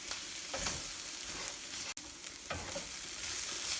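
Bitter gourd stir fry sizzles steadily in an open pan as the water cooks off, with soft scraping stirs breaking the continuous frying hiss.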